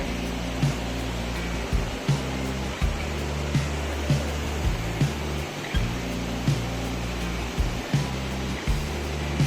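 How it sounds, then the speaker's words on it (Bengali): A waterfall in Darjeeling roars as a loud, steady wash of water, close and continuous, with faint rhythmic thumps beneath the constant rush. "ঝর্ণার যা আওয়াজ"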